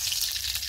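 Whole cumin seeds sizzle in hot oil in a kadai, a steady close crackling hiss with no talk.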